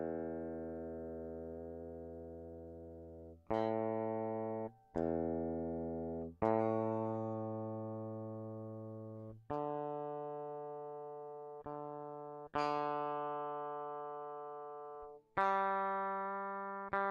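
Guitar strings plucked one at a time while being tuned, about eight separate plucks, each note ringing out clearly and slowly fading before the next, with no talking.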